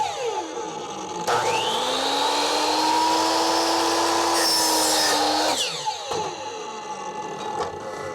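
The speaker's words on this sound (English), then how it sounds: "So now we should be able to just take this pipe and cut it off." Power saw cutting through a pipe held on a folding V-head pipe stand, a loud steady whine that rises as the blade bites, runs for several seconds, then winds down with a falling pitch.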